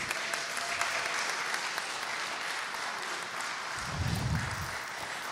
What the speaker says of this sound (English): I invite everybody to give a round of applause